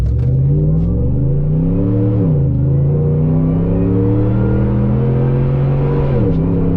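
A Roush Raptor pickup truck accelerating hard from a standstill, engine roaring loud and close as it climbs through several gear shifts with brief dips in pitch.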